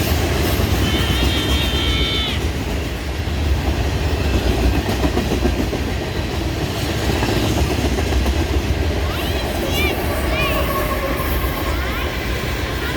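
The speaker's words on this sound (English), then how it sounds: "Third ES44 AC CN 2908 served as this train's distributed power unit, or DPU, a common sight on trains on the Neenah sub." A CN freight train rumbles past on the Neenah subdivision in Wisconsin with an ES44AC locomotive serving as distributed power, its loud steady roar and wheel clatter filling the whole stretch, with brief metallic squeals rising over it.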